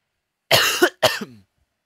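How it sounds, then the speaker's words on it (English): Two harsh coughs in quick succession, close and fairly loud, followed by silence. "If you're wondering why I have a cough, even I don't know."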